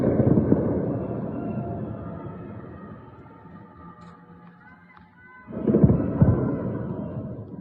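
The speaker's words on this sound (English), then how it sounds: "even when I hear this, the explosions and the jets and whatever" Deep rumbling booms from explosions and passing jets during street unrest in Iran, one long roar fading out, then a renewed loud burst rolling in near the end, with no voices over it.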